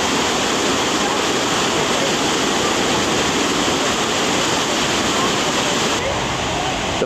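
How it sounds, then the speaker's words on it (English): Water roars into a canal lock chamber being filled near Béziers, France, a loud, continuous broadband rush with no breaks, close and dominant throughout. "And the next one is being filled."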